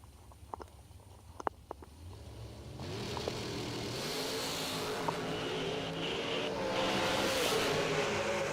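A drag racing dragster launches down the strip, a few faint clicks giving way to a rising, sustained engine roar that stays loud as the car pulls away.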